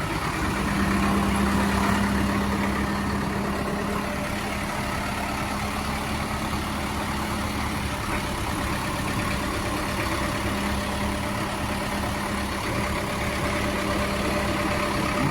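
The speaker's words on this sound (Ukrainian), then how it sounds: "мотор працює чисто, тихенько, світло." A Solis 105 tractor engine idles smoothly at a tractor yard, a steady, even drone with a faint low hum, unchanging and alone for the whole stretch.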